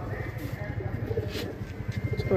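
Madrasi pigeons in a pigeon loft give soft, repeated low cooing in a steady rhythm, with a few shuffling sounds and a voice talking nearby.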